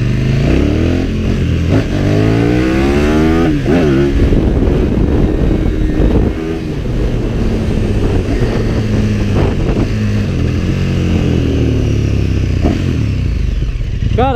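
KTM Super Duke 1290 motorcycle engine roars loudly and close up while being ridden, with repeated revving rises and falls as it accelerates, carrying on for the whole stretch.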